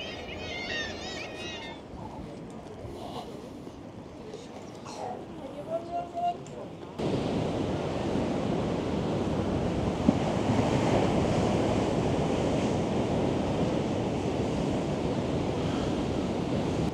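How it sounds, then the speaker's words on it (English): Big sea waves break on the North East coast of Britain: after a quieter stretch with talking and wind, a loud, continuous roar of surf takes over and stays strong to the end. "Big waves. I love watching big waves."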